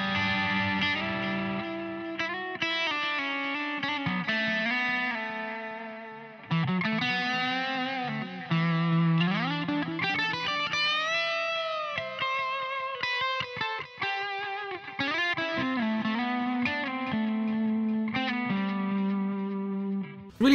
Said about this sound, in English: first we're just going to go through some clean sounds, just so you know, get an idea of like without any distortion